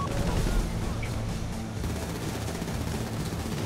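Gunfire during a GTA Online heist, dense rapid bursts of shooting over a low rumble, steady and loud throughout with no clear pauses.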